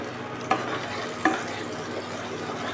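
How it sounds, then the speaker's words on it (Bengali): About 100 grams of butter melts and sizzles in a pan for an egg pulao, a steady close crackling hiss broken by a couple of sharp clicks from stirring. "বাটারটা মেল্ট হয়ে গেছে।"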